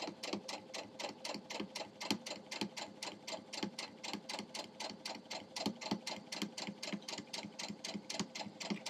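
A sewing machine stitching cotton fabric for a sawtooth star quilt block, running at an even, slow pace with rapid regular ticking stitches that continue steadily throughout, close and moderately quiet.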